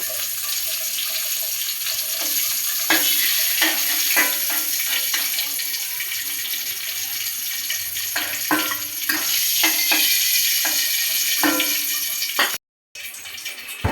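Fish heads fry in oil in a home kitchen, a continuous hissing sizzle broken by scattered clicks and scrapes of a utensil, with a brief dropout near the end.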